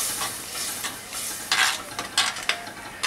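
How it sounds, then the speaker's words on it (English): A spoon stirs a wine braise sizzling in a hot pan, with a steady loud frying hiss and scraping stirs that rise in short bursts, close up and with no talking. "Mixing in nice and well."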